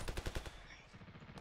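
Gunfire breaks out on an order to fire in a war-drama scene. A rapid, loud burst of automatic shots gives way to continued crackling fire.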